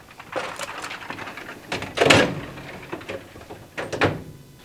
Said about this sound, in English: So this drawer needs a little cleaning out.